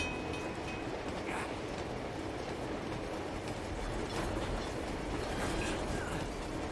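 A long train rolls past in Uncharted 2, a steady rumbling roar with faint rattling clatter that holds at an even level throughout, fairly distant and unbroken.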